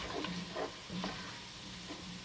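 A spoon stirs flour into garlic cooking in a pot for potato soup, with soft repeated scraping strokes over a steady low sizzle, close and quiet, with no talking.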